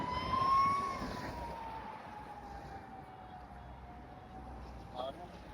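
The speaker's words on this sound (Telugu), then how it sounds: "అంబులెన్స్ కూడా ఉంది కాన్వేకి." An ambulance siren wails in a vehicle convoy on a road around Leh, Ladakh. It starts loud and near, then slowly fades and falls in pitch over steady road noise, with a brief knock near the end.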